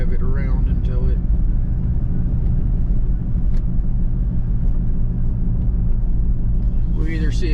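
A car is driven around to warm its engine, giving a steady low rumble and road noise close by inside the cabin. Someone talks over it now and then.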